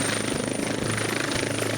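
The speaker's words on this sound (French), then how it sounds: "Un hélicoptère!" A helicopter heard during travel, its steady broadband rotor and engine roar holding constant and fairly loud for a short stretch, with no voices over it.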